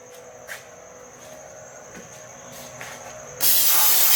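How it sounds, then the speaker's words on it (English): Brake parts cleaner sprays in a loud, steady aerosol hiss onto a car's CV axle during an axle install on a Nissan Maxima, starting abruptly and continuing to the end after a few quiet ticks and clicks. "I've got some brake parts cleaner just to get whatever oil I might have put on there off."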